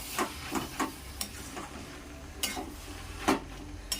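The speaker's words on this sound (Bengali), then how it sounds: "দিয়ে আমি একটু নাড়াচাড়া করে দেবো" Plantain flower (banana blossom) with ghee stirred in a pan, close crackling sizzle with several sharp spatula scrapes and knocks at uneven intervals.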